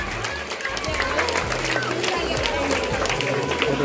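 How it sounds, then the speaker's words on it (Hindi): An audience of children at an annual school function applauds to welcome guests, a continuous, loud, close round of clapping mixed with crowd chatter and a voice over it. "सही बच्चे जोरदार तालियों से स्वागत करें।"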